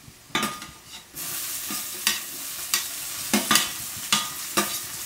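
Onion, tomato and curry leaves frying in a pan for a Konkani wet cashew masala, with a soft sizzle broken by repeated sharp scraping stir strokes at an uneven rhythm, close and clear with no talking.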